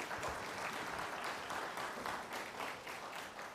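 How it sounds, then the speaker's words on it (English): Steady applause from an audience welcoming a young woman onto a stage at an event about coding and mathematics, a dense, continuous wash of many hands clapping at moderate distance with no voices over it. "Give a huge round of applause for Shrishti."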